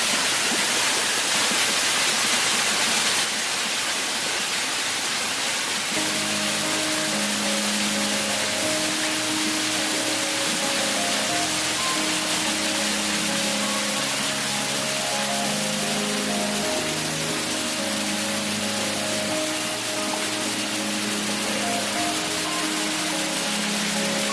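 Waterfall on Mount Lorokan near Pacet, Mojokerto, heard up close: a loud, steady rush of falling water fills the whole stretch, with a low tonal melody layered underneath for most of it.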